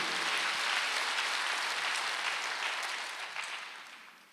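A church congregation claps together during a Wednesday worship service, a dense steady wash of applause that fills the room, then thins out and fades near the end.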